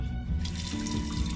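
A sink tap running in a sleeper train's bathroom: close, steady splashing water into the basin, getting brighter and fuller partway through, with the train's low rumble underneath.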